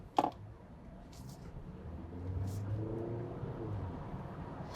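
A Chery Tiggo 9 hybrid SUV accelerates with its petrol engine and electric motors driving together, giving a low, steady, rising drone that swells midway under a faint whir, after a short sharp knock at the start.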